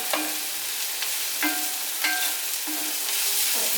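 Onions stir-fried in a pan, a soft continuous sizzle broken by several clinking stirs of a spoon against the pan, close and without voices.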